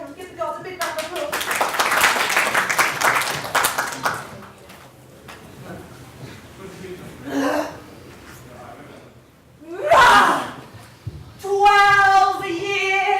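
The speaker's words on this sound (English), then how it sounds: "give the guards a big round of applause" A library audience claps for the guards at a youth theatre play, a dense burst of applause lasting a few seconds before fading, followed by voices and scattered sounds.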